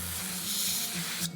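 Carb cleaner hisses out of an aerosol can onto the carburetor of a STIHL KM90R, a steady, close spray lasting just over a second and then cutting off abruptly.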